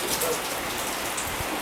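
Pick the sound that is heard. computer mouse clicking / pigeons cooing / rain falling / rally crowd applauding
rain falling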